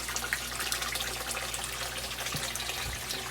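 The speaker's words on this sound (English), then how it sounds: "that waterfall keeps the water oxygenated" A waterfall splashes into a caiman pond with a continuous bright rushing and trickling of water, close and steady for the whole stretch, with a couple of faint low thumps.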